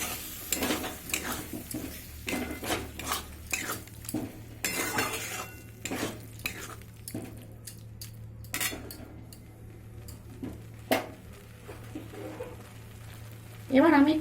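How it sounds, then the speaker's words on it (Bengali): Boiled lentils go into a pan with goat fat tadka and are stirred and fried, a spoon scraping and clinking against the pan in repeated strokes over a soft sizzle, with a voice talking throughout. "এবার আমি যে ডালটা সিদ্ধ করে রেখেছিলাম ওই ডালটা দিয়ে দেব, দিয়ে আরেকটু কষতে থাকবো।"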